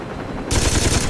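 Sudden loud automatic gunfire in the Saints Row 2 video game, a rapid burst of close shots that starts after a brief quiet moment.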